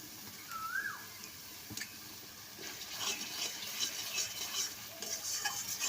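A spoon stirs spice masala with salt and turmeric for a village-style chicken curry with raw jackfruit, giving a quiet sizzle with scraping strokes and a few light clinks against the pot.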